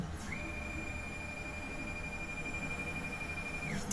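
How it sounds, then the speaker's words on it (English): A CNC router spindle on a Grbl_ESP32 machine with an automatic tool changer spins up to a faint, steady high-pitched whine over a low hum, then winds back down at the end. "Now it'll turn spindle on and wait for it to spin up."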